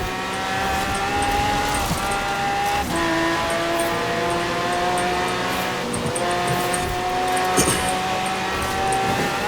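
Race cars including a LaFerrari and a Pagani in Forza Horizon 4, their engines droning steadily and loudly with sustained high whine, occasional gear shifts and brief tire noise throughout.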